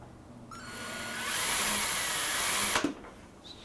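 A power drill whines steadily for about two seconds as it bores a hole into an arcade cabinet, then stops with a short clunk and a brief rattle, close up.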